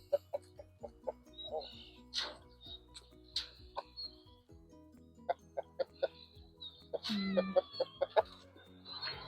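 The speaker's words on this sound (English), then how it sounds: "Chickens always like red things." Backyard hens and meat-bird chickens clucking in short, repeated bursts at close range, with occasional louder squawks and a brief stretch of talk mixed in among the calls.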